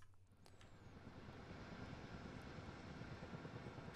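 A helicopter flies in Minecraft, its rotor and engine giving a steady whirring drone that builds slightly after the first second and then holds, moderately quiet and continuous with no speech.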